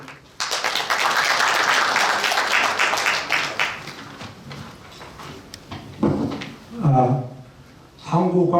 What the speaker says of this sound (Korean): 박수, 큰 박수 부탁드리겠습니다.